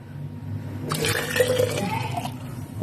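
Freshly boiled water is poured from a measuring cup into a jar of ingredients for a cough and cold remedy drink, making a splashing, gurgling stream for over a second that then trails off.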